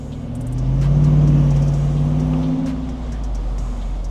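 A Jeep Wrangler 392 Rubicon V8 revs with a loud, deep, close-up rumble that swells over about a second, holds, then eases back to a steady burble, with no talking.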